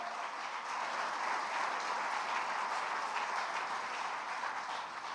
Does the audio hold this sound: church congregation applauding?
yes